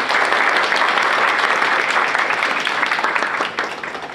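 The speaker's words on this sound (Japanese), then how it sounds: "大きな拍手をお願いいたします。" Audience in a Japanese presentation-skills seminar gives loud, sustained applause at the end of a speaker's session, dense clapping that holds steady and then thins slightly toward the end.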